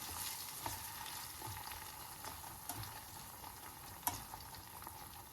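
Green chillies stirred in a pan with mild Thai chili slices, a faint soft scraping and light rustle with occasional spoon taps against the pan, heard alone.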